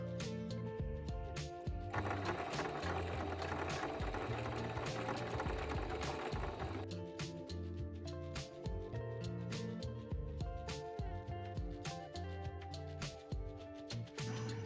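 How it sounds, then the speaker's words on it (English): A sewing machine top-stitches around the hem of the center hexagon on a fabric coaster, a steady mechanical whirring run that carries on for most of the span, close and clear, with no talking. "Then top stitch along the hem around the center hexagon."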